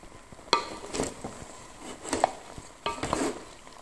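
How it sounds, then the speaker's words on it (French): Beef starts cooking in a pot for Comorian spiced yellow rice, a soft sizzle under several clattering scrapes of a spoon against the metal, close and fairly quiet. "Alors là, je commence à faire cuire la viande."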